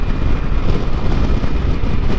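Wind buffets a light motorcycle at highway speed, a loud, constant, close rumble of rushing air with no other sounds.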